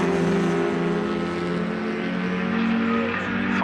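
Historic rear-engined Formula Junior race cars roar past at Castle Combe circuit heading into Quarry corner, a loud sustained high-revving engine note with layered tones that shifts as they go by.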